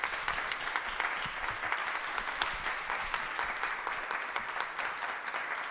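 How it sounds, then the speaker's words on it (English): An audience applauds a panel of speakers at a public forum on criminal justice and incarceration, steady dense clapping continuing throughout at moderate volume from a large crowd. "Can we just give another round of applause for our panelists?"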